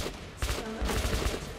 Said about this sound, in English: I'm just gonna use a machine gun and just keep shooting.